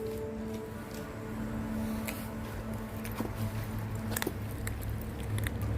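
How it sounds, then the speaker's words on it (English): A 7-week-old Lycan Shepherd puppy grinds a bone with its back teeth, giving close, irregular crunching and scraping clicks over a steady background hum. "here you see him chewing with his back teeth and effectively grinding up that bone"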